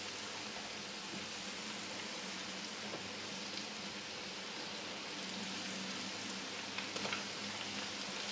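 Masi vadai fritters fry in hot oil with a steady, dense sizzle that holds evenly from start to finish. A few faint pops break through the hiss.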